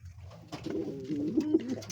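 Domestic pigeons in a loft cooing at close range, with a low, throaty warbling coo that rises and pulses over about two seconds.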